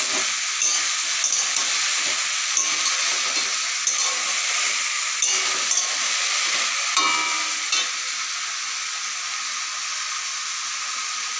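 Water lily stems in oil being stirred with a metal spatula, a loud continuous sizzle and hiss with occasional scraping strokes, easing slightly near the end.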